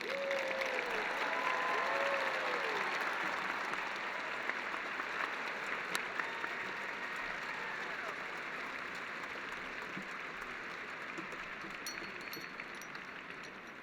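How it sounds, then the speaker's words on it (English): Graduates are applauded at the 2021 Grant High School graduation ceremony with a long, even wash of clapping from a large crowd, heard at a distance and slowly easing toward the end, with a few voices and whoops over it. "Please join me in congratulating these amazing students with a well-earned round of applause."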